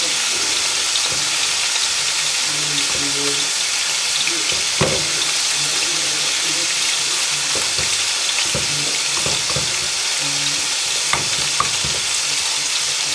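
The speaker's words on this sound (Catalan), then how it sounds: "hi tiraré una mica d'oli, no gaire, perquè això s'ha de remenar contínuament perquè s'enganxa" Flour and a little oil sizzle steadily in a small pan for a Catalan sofregit, with a spoon stirring and scraping continuously and occasional louder clinks against the pan, close and without talk.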